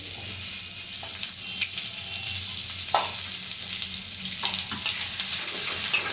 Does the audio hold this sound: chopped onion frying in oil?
yes